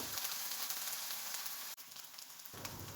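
Onion paste sizzles and fries steadily in a hot pan with green chillies as it is stirred, a continuous close crackle with a brief scrape partway through.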